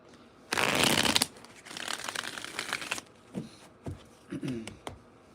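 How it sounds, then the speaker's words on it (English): Tarot cards are shuffled close up in two loud, rustling riffle bursts, then squared with a few light taps and clicks. "Let's go ahead and get another shuffle in."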